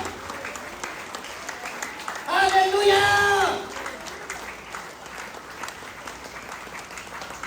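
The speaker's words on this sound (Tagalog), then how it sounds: "Huwag po tayo magtipid sa palakpak sa Panginoon." Church congregation bursts into applause during an anniversary worship service, a loud swell of clapping lasting about a second and a half amid ongoing speech and a shouted exclamation.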